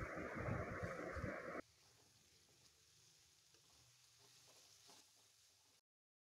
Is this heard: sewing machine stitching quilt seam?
no